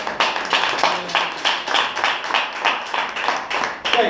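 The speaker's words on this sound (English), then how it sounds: "give these guys a round of applause for helping" A seated audience gives a lively round of applause for volunteers at a live presentation, with dense, continuous clapping that stays loud and steady throughout, no talk over it.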